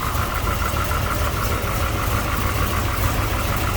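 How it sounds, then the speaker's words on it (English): A 1972 Chevrolet C10 stroker V8 with roller cam, Bell roller rockers, Edelbrock air gap intake and Edelbrock carb idles loudly and steadily, with a rough, even rumble throughout. "Good sounding engine."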